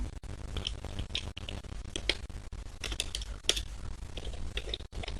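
Typing a folder path into a Windows command prompt on a computer keyboard, with steady close-up clicking keystrokes and a few sharper key hits over about five seconds, no talking.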